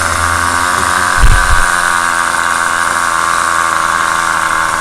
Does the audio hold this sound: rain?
no